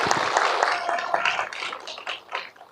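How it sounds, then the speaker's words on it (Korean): An audience at a film screening and talk event claps in a close, dense burst of applause that fades toward the end. "큰 박수 부탁드립니다."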